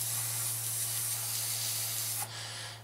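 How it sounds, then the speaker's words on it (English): Paint spraying onto a Revell 1/48 Junkers Ju 52/3m model kit: a loud, steady close-up hiss that holds evenly, then drops off abruptly near the end, leaving a fainter trailing hiss. "I'll just make the paint a bit thicker and get it all sprayed on"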